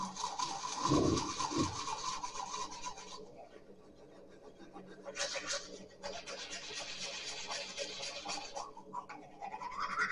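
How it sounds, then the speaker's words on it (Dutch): A toothbrush scrubs teeth up close with a continuous, rasping scratch that changes in intensity and pauses briefly before resuming. "Ik ga wat tanden poetsen."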